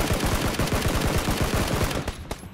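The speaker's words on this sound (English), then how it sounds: "We're getting shot from somewhere, I think." Automatic gunfire in the video game PUBG rattles in fast, loud bursts of rapid shots, then breaks off into a few scattered single cracks near the end.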